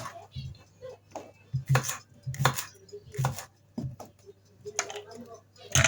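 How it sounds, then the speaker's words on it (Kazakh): Cucumber is chopped on a board with a knife in a kitchen, the sharp taps landing in an uneven series of close strikes while someone talks quietly. "Қияты турап,"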